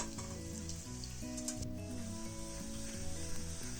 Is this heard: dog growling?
no